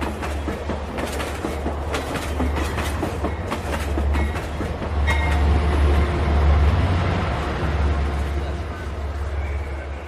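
An overnight passenger train bound for Puri runs on rails, its steady low rumble and rhythmic clickety-clack close and loud throughout, swelling slightly midway; a voice speaks over the noise.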